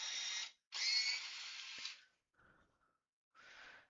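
An electric pencil sharpener runs in short, loud whirring bursts close by, with a long grind, a brief pause and a shorter burst at the end.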